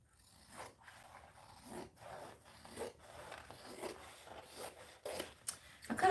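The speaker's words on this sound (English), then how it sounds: "I cut a black zipper" A black zipper cut and handled during sewing, with scattered rubbing, scraping and snipping noises coming in irregular bursts close by.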